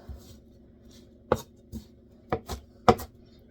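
Herbs for a tabouleh salad being finely chopped with a knife on a board: a handful of distinct, sharp chops spaced irregularly over a few seconds, close and fairly quiet with no talking.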